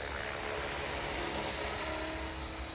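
Steady whirring rotor and motor drone of a Blade Fusion 360 RC helicopter hovering nearby, continuous and even throughout with no talking.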